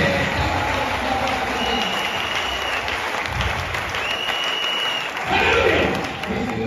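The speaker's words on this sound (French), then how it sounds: "Acclamez le Dieu." A church congregation in Brazzaville, Congo, applauds continuously with dense, close clapping that swells near the end, while voices murmur underneath.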